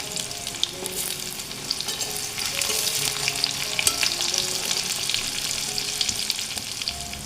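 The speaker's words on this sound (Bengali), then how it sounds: "আমি একটু পেঁয়াজ দিয়ে দিলাম অল্প করে পেঁয়াজ দিলাম" Onions frying in hot oil in a pan with green chilli, for a pointed gourd and shredded fish dish: a steady close sizzle with frequent crackles and occasional stirring scrapes, no voices.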